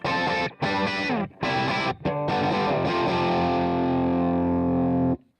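A heavily distorted, high-gain electric guitar plays through an amp modeler with its stock cabinet impulse response: loud chugging chords broken by short gaps, then a long sustained chord that rings out and cuts off.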